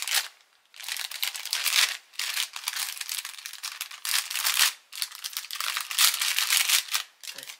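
Die-cut craft pieces on thick cardboard being unpacked, giving bursts of crinkling and rustling packaging noise in repeated pulses with short pauses, close up and fairly loud.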